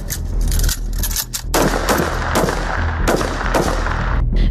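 Rifles fire in quick repeated bursts from women military police trainees on a training range, sharp loud cracks in an irregular volley with short gaps between, close and without talk.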